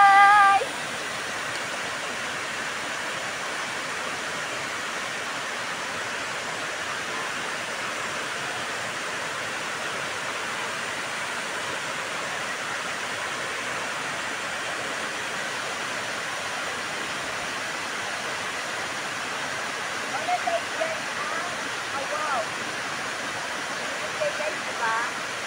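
Awao Falls waterfall gives a constant, fairly soft rushing wash heard from some distance, with brief faint voices near the end.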